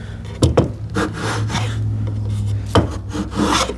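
A hand plane takes a few swipes along a wooden TV unit piece, giving close, rough rubbing strokes with sharper scraping bursts at the start of each pass.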